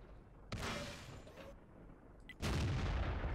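Tank cannon shots in World of Tanks, two loud booming blasts about two seconds apart, the second heavier and sustained, over a low game rumble with no talking.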